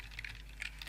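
Quiet typing on a computer keyboard while playing the game Undertale, soft key taps in small irregular bursts over a low steady hum.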